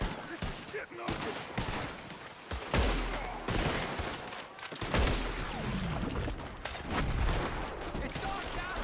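Gunfire crackles through a Red Dead Redemption 2 shootout, with repeated loud shots and volleys at irregular intervals, some close and booming, layered over a voice talking.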